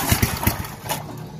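A small engine with the choke and throttle on cranks in a quick run of low, rhythmic chugs, then sputters briefly as it tries to catch. It is close and loud, with no speech.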